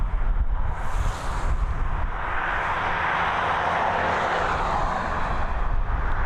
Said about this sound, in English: Here we go though, we have THY96BH heading over to Istanbul